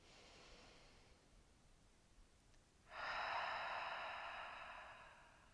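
Deep, slow breathing during a stretching session for shoulders, hips and back: a soft drawn-out breath, then after a short pause a louder, fuller exhale that rushes on for a few seconds before easing off, close and alone.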